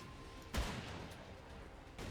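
A single loud shotgun blast from a standard pump shotgun in the video game Darkest Days, a sharp burst followed by a noisy decay over constant background sound.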